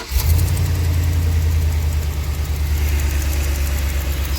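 A Chevy Express van's engine idles loudly and close by, giving a steady, smooth low rumble that continues evenly throughout.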